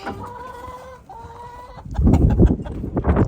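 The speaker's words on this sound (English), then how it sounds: "here's my other rooster." A rooster's drawn-out call rings out clearly for almost two seconds, followed by loud, busy clucking and rustling nearby.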